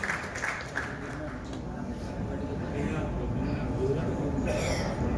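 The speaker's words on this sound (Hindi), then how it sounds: "हम और एक बार ताली बजा के उनका बहुत बहुत स्वागत करेंगे" An audience claps to welcome the chief minister at an event in Solapur, Maharashtra, with a continuous, fairly distant wash of applause under a reverberant hall ambience.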